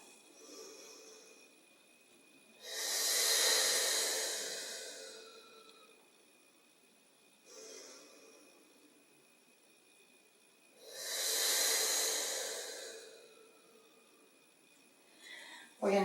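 Slow, deep breathing during a Pilates exercise, two long airy breath cycles each swelling and fading over several seconds, close and soft with quiet gaps between.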